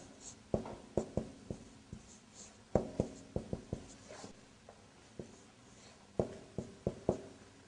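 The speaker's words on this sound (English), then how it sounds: "Maybe I should write it down." Chalk or marker writing on a board during an Arabic language lesson: short, sharp taps and strokes in quick clusters separated by pauses, fairly close and clear with no voices.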